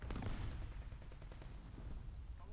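A tank gun fires in the War Thunder Mobile video game, with a dense, rumbling burst of low booms and crackling shots that stays loud throughout the short stretch.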